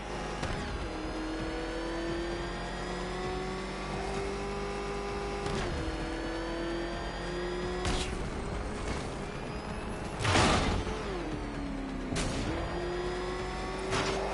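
Batmobile engine from Batman: Arkham Knight roaring steadily close up, its pitch climbing and dipping as it revs and shifts, with sharp mechanical whooshes and one louder burst near the end, no speech.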